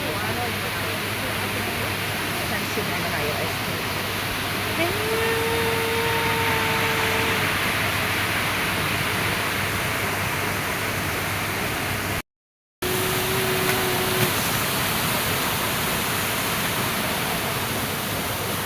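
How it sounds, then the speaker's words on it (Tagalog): Mountain stream water flowing through a forest park in Bosnia, a steady broadband rush that stays loud and even throughout, with a brief dropout near the middle. "Tubig. Galing sa bundok."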